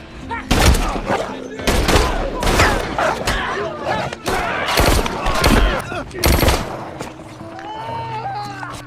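Rapid gunfire rips through a John Wick film scene, bursts of shots layered with thumps and booms, loud and dense throughout, with voices mixed in.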